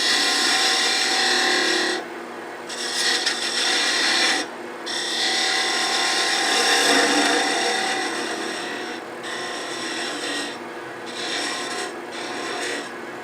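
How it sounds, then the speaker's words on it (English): A 3/8 inch spindle gouge cutting wood on a lathe while turning a hair stick, a loud continuous rasping scrape in long strokes broken by brief pauses, close by and alone. "We go back to 3/8 inch spindle gouge"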